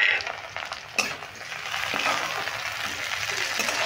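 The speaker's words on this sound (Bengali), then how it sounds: "দেখো পেঁয়াজ লঙ্কা টমেটো একদম ভালো করে ভেজে নিয়েছি" Onion, chili and tomato frying in a pan give a steady, close sizzle with stirring scrapes and a brief utensil clink near the start, no talking.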